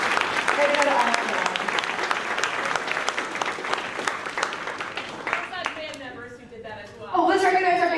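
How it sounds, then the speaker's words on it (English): A school spring concert audience applauds the student performers, dense steady clapping that fills the room before fading out near the end, with voices and laughter rising through the tail. "If we could give them a round of applause."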